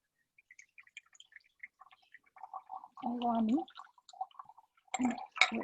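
Liquid trickles and drips into a measuring cup for poke rice bowls, small irregular splashes with a short gurgling pour, fairly faint and close, while a voice speaks briefly.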